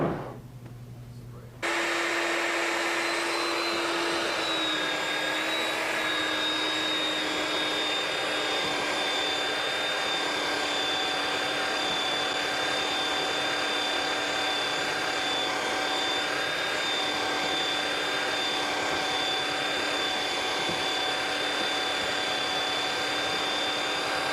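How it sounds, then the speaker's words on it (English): A belt sander works on fiberglass as a loud, steady high whine that starts abruptly after a short quiet moment and runs continuously, its pitch dipping slightly early on before settling. "we would take our belt sander and come around and take some of this off."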